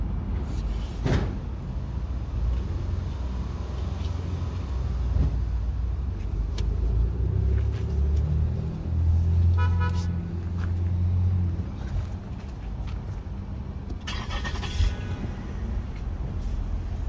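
A 2014 Lexus ES350 engine idles with a steady low rumble throughout, air conditioning switched on with a faulty compressor, broken by a few clunks and rattles from around the vehicle.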